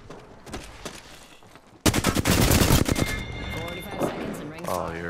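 Rapid video game gunfire in a shield-heavy shootout, sparse shots at first then a loud sustained burst of automatic fire, with voices talking over the action.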